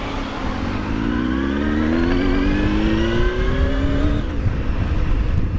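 A Honda Hornet 919 motorcycle revs and accelerates, its straight-cut gears giving off a rising whine over a steady, loud engine drone for about four seconds before the pitch levels off into a rough idle.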